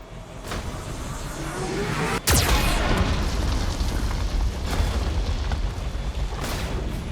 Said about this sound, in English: the VI infection has assumed control of the Geth cannon.